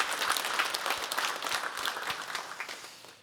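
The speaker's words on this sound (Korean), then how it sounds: "우리 다 함께 하나님께 영광의 박수 한번 하도록 하겠습니다" A church congregation claps together in a warm burst of sustained applause during a Sunday service that gradually tapers off near the end.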